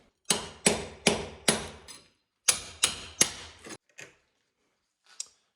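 A hammer knocks out fireplace bricks with sharp, heavy blows: a quick run of four strikes, a pause, then three more, followed by a couple of fainter knocks, loud and close with no talking.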